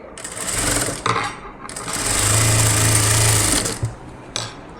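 Nearby, a sewing machine stitches a puff sleeve in quick bursts of rapid mechanical whirring, with short pauses between runs and a longer, steady run in the middle.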